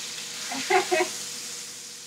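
Steak and scallops sizzle in a hot pan, a soft steady hiss throughout with a couple of brief louder clinks or spatters near the start, fairly faint and close.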